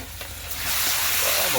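Marinated meat hits hot oil in a large wok and is stirred, the sizzle swelling abruptly partway through into a loud, dense hiss that continues close by.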